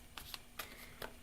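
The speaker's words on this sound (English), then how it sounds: "I literally shuffled the cards." Tarot cards shuffled by hand during a live reading, heard as a few quick, soft riffling bursts close by with no talking.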